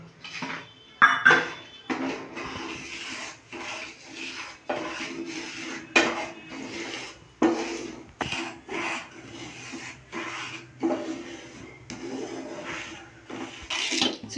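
A cup of semolina is dry-roasted in a pan over gas. A spoon knocks and scrapes against the pan again and again in an uneven rhythm, close by, with a low sizzle between the strokes.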